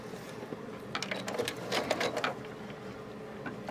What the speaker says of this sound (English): let's finish sewing this down where my seam crossed.